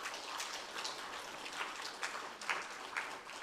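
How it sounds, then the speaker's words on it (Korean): Congregation applauding during a Sunday church service, a steady spatter of clapping filling the room at moderate volume, with no talking over it. "우리 박수 한번 쳐주세요"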